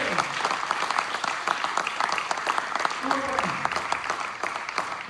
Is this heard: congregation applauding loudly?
yes